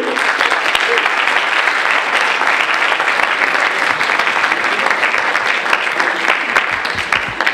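Audience at the Imagine Cup France 2013 app pitch event applauding jury members, a loud, dense and continuous burst of clapping sustained throughout, with faint voices underneath.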